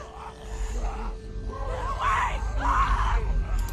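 A girl screams for help in The Walking Dead video game, her loud, strained cries rising in two drawn-out bursts over a low rumbling backdrop.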